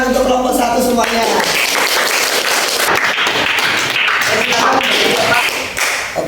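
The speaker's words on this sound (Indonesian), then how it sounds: "Kita beri tepuk tangan untuk kelompok 1 semuanya." Classroom audience applauding a student group after its presentation, a burst of loud, dense clapping that follows a moment of speech and carries on for several seconds.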